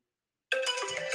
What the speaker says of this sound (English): I set the alarm on my phone for 11:59